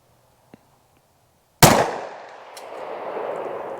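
A single sharp 9mm pistol shot of Ammo Inc. standard 115-grain ammunition cracks loudly over a chronograph, then rings out in a long reverberant decay, preceded by a faint click.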